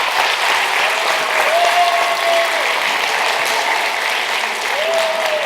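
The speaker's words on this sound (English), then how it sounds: "let's give all the organizers, the teachers, the faculty, and the family a big round of applause" Audience applauding at a lower school assembly, a steady loud wash of many hands clapping throughout, with faint voices or tones rising briefly above it.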